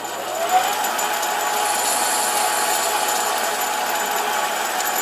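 A mini lathe facing the end of a small metal part, giving a steady, fairly loud motor whine with a continuous hissing cutting noise and no pauses, heard close up.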